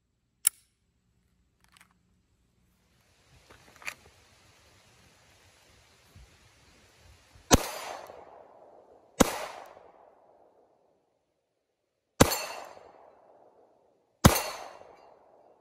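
Pistol shots fired at 25-yard steel targets outdoors: four loud, sharp reports spaced a second or two apart in the second half, each with a ringing tail, after a few fainter clicks and taps.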